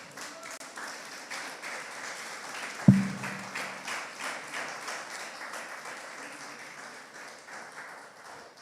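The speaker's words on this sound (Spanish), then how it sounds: "Vamos a darle una ofrenda de palmas al Señor." Congregation in a church service clapping together in praise, a dense, moderately loud applause with a sharp thump partway through, gradually tapering off.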